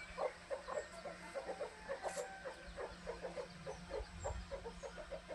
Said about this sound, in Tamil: அது 2 கோழியும் போகுது, 3 குஞ்சும் போகுது பாருங்கள்.